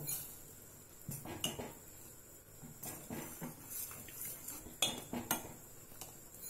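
A ladle or spoon scraping and clinking against a pot while sago and vermicelli milk payasam is stirred slowly over a low flame, with irregular metallic taps and scrapes, fairly faint and close.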